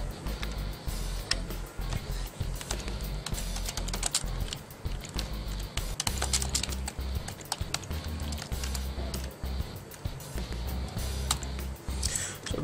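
Steady typing on an external keyboard hooked up to a Sony Xperia Z1 smartphone, dense clattering keystrokes running continuously over a low background hum, no talking.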